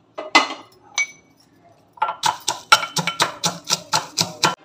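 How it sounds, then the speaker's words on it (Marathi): Roasted peanuts pounded coarsely in a mortar and pestle: a few scattered knocks at first, then a steady run of about ten sharp rhythmic thuds, close and clear, with no talking. "भाजलेले शेंगदाणे मी खलबत्त्यात टाकून जाडसर कुटून घेते।"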